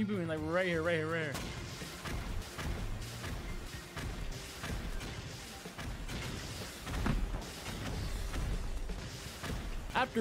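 Rocket explosions boom repeatedly during a Rust raid, dense overlapping blasts and rumbles filling the mix under a voice talking throughout.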